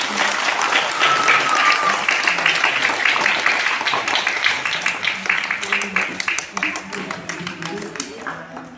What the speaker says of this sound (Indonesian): Sebelumnya kasih tepuk tangan untuk Ibu Rumiati